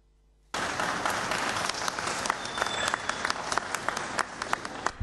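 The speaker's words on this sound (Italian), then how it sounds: "La prima colata di ghisa è stata salutata da un lungo applauso" Long, sustained applause from workers greeting the first cast-iron pour at a foundry, bursting in suddenly after a moment of near silence and holding steady and dense to the end with scattered sharp claps.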